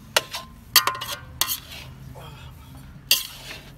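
A large spoon stirs thick samosa masala in a pan, giving a few sharp metallic scrapes and clinks spaced irregularly, with a low, faint sizzle underneath.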